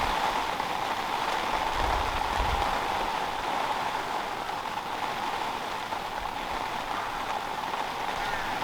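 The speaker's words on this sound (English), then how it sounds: "What was drizzle turned into an absolutely heavy downpour" A heavy rain downpour hisses steadily and evenly on surrounding surfaces, close and continuous, with a brief low thump early on and no talking.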